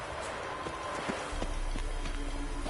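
Horse hooves gallop at a steady, rhythmic clip in The Witcher 3: Wild Hunt Enhanced Edition on PS5, the hoofbeats close and continuous over a constant background bed.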